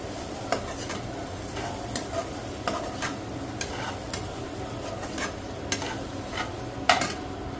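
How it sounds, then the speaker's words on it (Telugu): A spoon stirs a coconut and chana dal mixture with chili powder and salt in a pan for an Andhra home-style dish, making regular scraping strokes over a low continuous sizzle, with occasional metallic taps and no voices. "కొంచెం సాల్ట్ అన్నీ వేసుకొని చక్కగా మిక్స్ చేసుకోవాలి."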